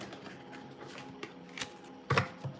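Soft riffling and snapping of tarot cards being shuffled close up, a few quick crisp bursts with brief pauses between them.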